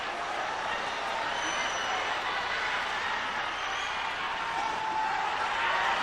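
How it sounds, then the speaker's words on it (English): Wrestling arena crowd at a 1991 Rings shoot-style event buzzing and rumbling steadily during a tense stare down, a dense, sustained roar of many voices with commentary talk over it. "He gets a good rise from the crowd during the stare down with Vrij."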